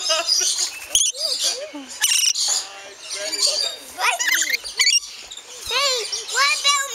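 Parrots squawking and chirping close by, with sharp bursts and short tweets scattered across several seconds, mixed with people talking and laughing nearby.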